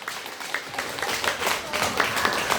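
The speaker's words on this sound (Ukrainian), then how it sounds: "Ваші оплески" An audience claps steadily through a charity concert in the village of Artasiv, a dense, continuous patter of many hands at an even level with no speech over it.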